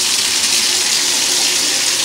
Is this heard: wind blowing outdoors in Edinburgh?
no